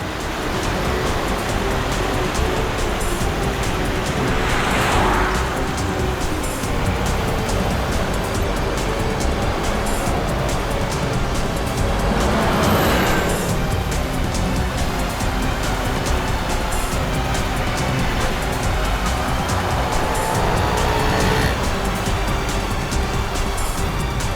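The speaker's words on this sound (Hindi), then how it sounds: "ये गाड़ी भी शिल्पा का पीछा कर रही है।" A car trails another vehicle down a road in a Hindi crime drama, a steady broad road roar with a few louder passing swells, no talk.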